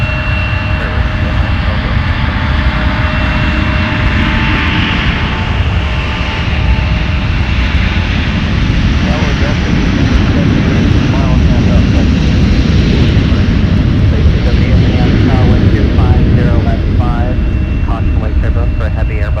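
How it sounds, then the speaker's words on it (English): A heavy Airbus jet departs runway 12 right at MSP airport, its engines roaring loudly and continuously as radio chatter from air traffic control runs underneath. "For a heavy Airbus departing runway 12 right"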